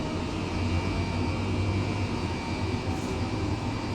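The engines of an Airbus H135 helicopter in the flight simulator MSFS2020 run with a steady, droning turbine whine and hum that stays constant and fairly loud throughout, with no voices.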